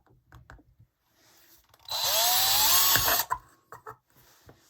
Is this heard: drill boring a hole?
yes